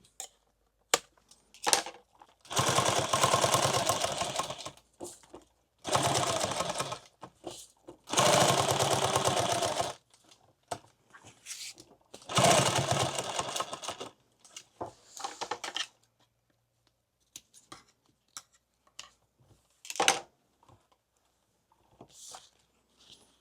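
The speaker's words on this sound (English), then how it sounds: "This machine sews so much better than the machine I sewed all that on yesterday." Sewing machine stitching Velcro onto a leather pouch, running in several loud mechanical bursts of a few seconds each, separated by pauses with small handling clicks and taps.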